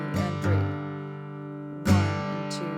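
Acoustic guitar brushed with the backs of the fingernails in a casual finger-picked strum: two soft, separate sweeps across the strings that ring and fade between them, quiet and close, with no talking.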